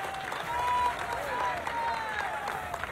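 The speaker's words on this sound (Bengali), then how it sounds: "আজকে নরেন্দ্র মোদীর জন্য আমরা সব হাততালি করে জোরসে আমরা অভিনন্দনটা জানাই" A crowd at a political rally claps together, a steady spread of applause that carries through the whole moment, with some shouting or a voice mixed in at moments.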